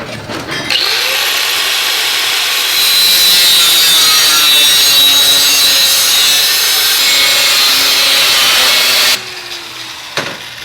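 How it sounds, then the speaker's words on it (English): A loud, continuous grinding whine with a harsh, gritty hiss as a grinder cuts metal, running steadily for several seconds, then cutting off abruptly, followed by a brief clatter. "Start grinding"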